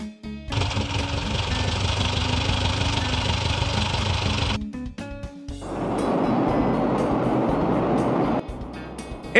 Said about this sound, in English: SUV.